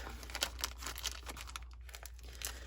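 A paper craft kit package is torn and crinkled open up close, with a run of uneven crackling rips and rustles over a low steady hum.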